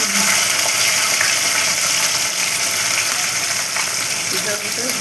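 Water poured into a cooking pot in a home kitchen, a steady, loud gushing hiss that runs without a break for the whole stretch.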